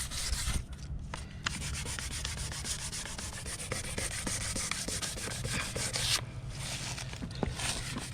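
Close, continuous sanding rasps back and forth over a repaired fiberglass jet ski hull in steady strokes, with a couple of brief pauses near the start and again later on.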